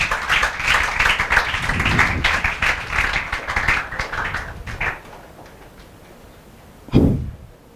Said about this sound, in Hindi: बजाओ रे बाबा, तालियां बजाओ।